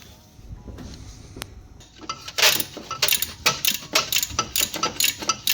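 Ratchet tightening nuts onto two small downpipe bolts on a B58-engined BMW M140i: a quiet start, then a rapid, regular series of close clicking ratchet strokes, no talking.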